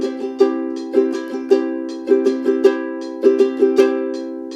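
Ukulele strummed fast in 3/4 time at 160 bpm, crisp down-up chord strokes in a steady lilting pattern, close and clear with no talking.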